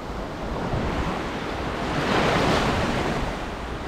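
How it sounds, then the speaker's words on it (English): Ocean waves wash onto Jomtien Beach in Pattaya in a steady, loud surf roar mixed with wind buffeting the microphone. One wave swells slightly louder partway through. "This is quite a long beach, I believe it's like 7 kilometers or so all the way around."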